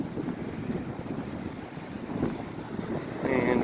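Gusty wind buffets the microphone outdoors on a blustery, sunny day in Edmonton, Alberta, a steady low rumble with swelling gusts throughout.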